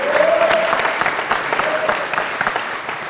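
A crowd applauds student contestants at a youth debate competition, loud, close clapping with scattered sharp hand claps and a faint voice calling out over it.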